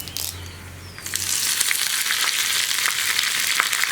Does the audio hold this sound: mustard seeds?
yes